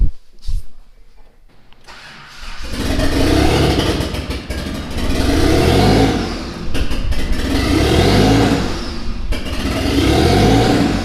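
A Mitsubishi 3000GT VR4 with a newly installed engine cranks and fires up for the first time, then revs repeatedly in loud surging waves with rough clatter, a few brief clicks and knocks heard first.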